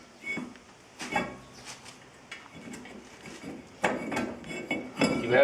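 A new brake rotor goes onto the hub of a Jeep Wrangler TJ, giving scattered metallic clinks and clunks, a few sharper knocks and heavier metal contact toward the end, with no talking.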